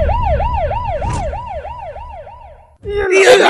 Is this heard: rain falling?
no